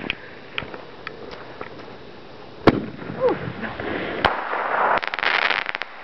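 New Year's fireworks and firecrackers pop and crackle at a distance, scattered single bangs giving way to a denser crackling burst near the end, with faint voices in the background.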